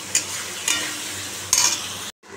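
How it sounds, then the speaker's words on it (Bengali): Meat masala stir-fried in a pan: a steady close sizzle broken by three scraping stirs of a spoon, ending in a sudden cutoff. "এখন মশলা কষাচ্ছি, মাংসের মশলা কষাচ্ছি"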